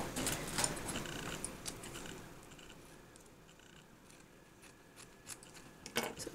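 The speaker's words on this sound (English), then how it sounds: "Okay, I'm just going to cut." Scissors snip through card during a vintage handmade card project, a few crisp cuts near the start and again around the end, with quieter paper handling in between and no talking.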